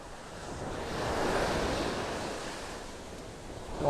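Ocean surf washes up over bare feet at a sandy beach in North Naples, Florida, a steady broad hiss that swells in the middle and eases off, with light wind buffeting the microphone.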